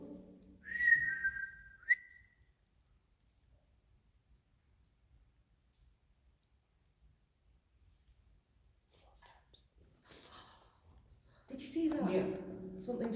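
A person whistles inside a tunnel: a short, faint two-note whistle rising then holding, followed by long near-silence and later quiet whispering voices.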